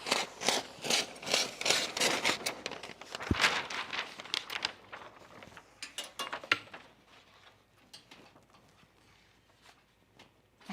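Paper is pulled and torn from a roll while pattern fitting on jeans, giving a run of crisp rustles, crinkles and tapping handling sounds that are louder at first and then fade to sparse, quieter clicks.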